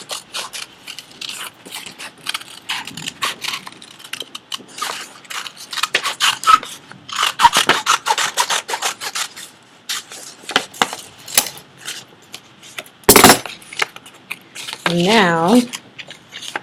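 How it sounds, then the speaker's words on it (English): Scissors cut through folded paper in a steady run of short, crisp snips and rustles, close and fairly loud, with paper crinkling throughout and a brief sharper clack near the end. "I'm going to keep my paper folded and cut out both of the sides of the paper."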